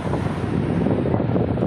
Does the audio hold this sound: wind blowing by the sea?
yes